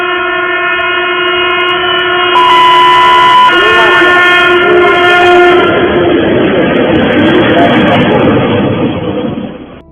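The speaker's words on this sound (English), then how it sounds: "Sparks are flying from the friction of the moving train" A moving train sounds a long, loud, steady horn blast that then gives way to a harsh, broadband rolling and grinding roar from the wheels on the rails.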